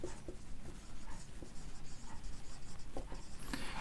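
A marker scratches steadily across a board as a definition of a constant polynomial is written out during a class, making continuous close scraping strokes with brief pauses and no talk.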